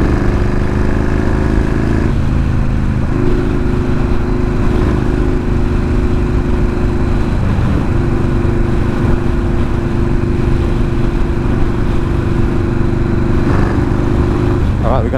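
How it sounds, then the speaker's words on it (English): Yamaha Warrior 1700 motorcycle engine while riding, a loud, steady low drone with shifting pitch as the bike changes speed, wind rush around it and a voice speaking over it. "it almost feels like the bike is running a little better"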